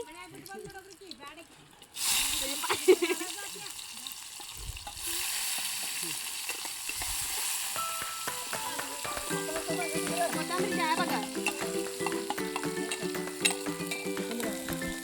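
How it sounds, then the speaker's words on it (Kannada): Chopped onions sizzle and crackle in hot oil in a pan while cooking Uttar Karnataka-style kaju paneer, a steady close frying hiss with stirring, as a person talks and music plays. "ಈರುಳ್ಳಿ ಹಾಕ್ತಾ ಇದ್ದೀವಿ."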